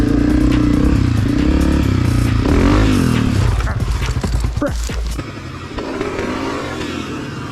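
A 2022 Honda CRF250F dirt bike fitted with a Pro Circuit exhaust roars loudly while being ridden, its engine note rising and falling in bursts through the whole stretch, with wind and rough outdoor noise mixed in.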